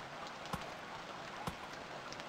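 Steady soft rain hissing in the survival game Stranded Deep, faint and even, with two brief sharper taps standing out.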